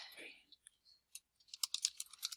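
Keys on a computer keyboard tap out a short word in a quick burst of light, close clicks, following a few scattered soft presses and a faint voice.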